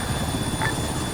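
A helicopter idles or hovers nearby during a twilight airsoft operation, with a steady, dense rotor and engine rumble that fills the whole moment without letup.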